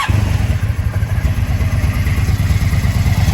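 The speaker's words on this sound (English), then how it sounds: "Let's give her a crank." A 1983 Honda V45 Sabre VF750S V4 motorcycle engine cranking and catching, a loud, close, rapid throbbing pulse that runs steadily throughout.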